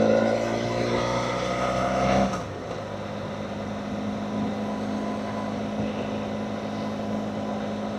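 Motorbike ride on a wet road in rainy weather, a loud engine drone that drops in pitch as the rider shifts down a gear, then settles into a lower steady rumble mixed with wind and road noise.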